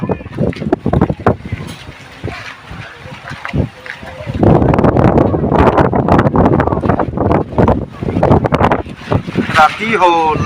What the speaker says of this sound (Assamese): বহুত বতাহ আহিছে